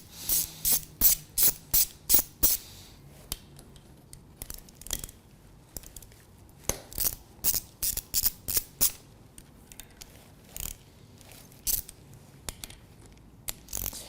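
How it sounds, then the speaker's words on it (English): Four M8 screws being backed out of a seal cover with a ratchet, producing quick runs of crisp, evenly paced ratchet clicks, close and clear, pausing and resuming several times. "we have to remove all the screw of the seal cover"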